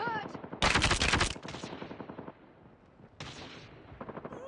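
Automatic gunfire in the mobile shooter Call of Duty Mobile, a loud dense burst of rapid shots followed by a second burst a couple of seconds later, with voices calling out faintly between the volleys.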